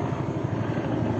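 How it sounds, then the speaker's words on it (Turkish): A twin-rotor tandem helicopter fighting a forest fire near Milas in Muğla passes overhead, its rotors chopping in a fast, loud, regular pulse with a strong engine roar close by and no talk. "bir helikopter, değişik bir çift pervaneli."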